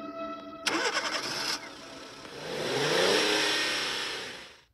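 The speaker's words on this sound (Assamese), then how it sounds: "বল জল্দি গাড়ী ষ্টাৰ্ট দে" A cartoon car engine cranks briefly, catches and starts, then revs up in a loud rising and falling roar that trails off, with no other sound over it.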